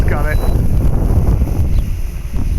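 Gusty wind buffets an HK-450FBL model helicopter outdoors, a steady loud low roar of wind noise on the microphone with a brief voice at the start.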